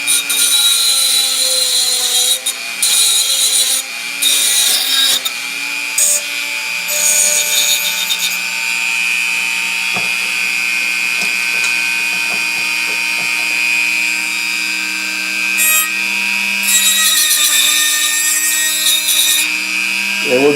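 A Dremel rotary tool cuts a rough broken edge on a Britains model ambulance truck during restoration, a loud steady high whine running the whole time with brief dips as the cut eases.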